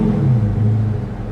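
A Honda S2000 engine revs under light throttle, with a steady low rumble close by and no talking.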